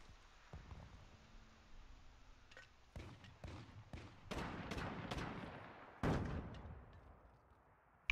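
Gunfire in the DMZ video game, scattered sharp shots and short bursts at varying distances, some louder near hits among quieter distant pops, no talk.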